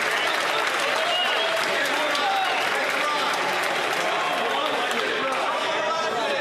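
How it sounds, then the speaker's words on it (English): Members of parliament applaud during Question Period in the House of Commons, a dense and sustained roar of clapping that fills the chamber, mixed with raised voices and heckling. "And everyone's clapping for that."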